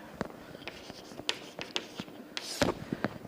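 Marker or chalk writing numbers by hand on a board, a run of short scratchy taps and strokes at close range, spread across a few seconds with brief pauses between them.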